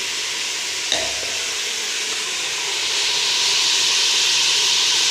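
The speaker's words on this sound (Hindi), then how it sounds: "ये गोश्त फ्राई हो चुका है" Meat for nihari fries with ground spices, a loud, continuous sizzle and hiss that briefly thumps and clatters as the pan is stirred near the start, then grows slightly louder, with no speech.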